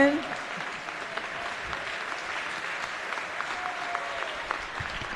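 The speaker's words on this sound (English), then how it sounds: "let's give a big hand of applause to our union folks here" Applause in a state House chamber for union members seated in the gallery, a steady wash of clapping from a crowd of legislators and guests, sustained and even throughout.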